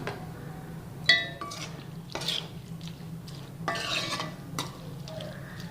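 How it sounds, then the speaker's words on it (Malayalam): A spoon scrapes and stirs through mango pickle in a pan after asafoetida powder is sprinkled in, with a few sharp metallic clinks and soft scraping strokes over a faint low hum. "തൂവി കൊടുത്ത് ഇളക്കി കൊടുക്കുക നന്നായിട്ട് കേട്ടോ."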